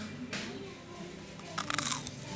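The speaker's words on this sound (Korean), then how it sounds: "엄청나게 바삭바삭하네." Crunchy bites into crispy fried churros in Madrid, Spain, a few sharp crackling bursts close to the mic, with faint murmuring around them.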